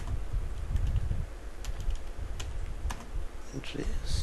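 Steady clicking of keys on a computer keyboard while entering data, a close, continuous run of rapid taps with brief bursts and pauses.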